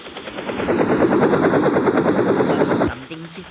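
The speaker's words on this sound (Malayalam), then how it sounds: "ഹെലികോപ്റ്റർ നമ്മളാണ് ഓടിക്കുന്നത്." A loud, rapid video game helicopter rotor chop thumps steadily with engine whine, then cuts off abruptly near the end; the game involves escaping Barry's prison.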